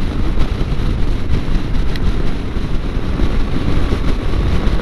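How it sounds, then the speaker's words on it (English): Heavy wind buffeting a microphone while riding a Yamaha Ténéré 700 motorcycle on gravel, a constant low roaring rumble with no voices. "It's pretty windy today."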